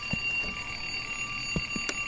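An alarm clock rings inside the horror video game Dark Veer, giving a continuous, fairly loud, high-pitched tone with a few soft thuds underneath.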